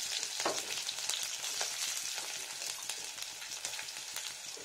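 Onions frying in a pan for a potato and pointed gourd curry, a steady close sizzle with faint crackles and a few stirring scrapes throughout, no voices.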